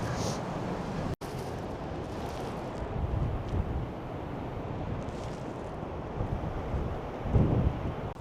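Wind buffets a microphone on the coast of Northern Ireland with a broad ocean wash behind it, steady and fairly loud, and a short dropout early on.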